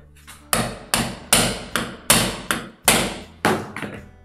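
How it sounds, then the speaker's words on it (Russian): Hammer driving a chisel to knock gypsum plaster off a wall, about nine loud, sharp metallic strikes in an uneven rhythm, each ringing briefly before the next, close and with no talk. "я отбивать буду просто зубилом и молотком"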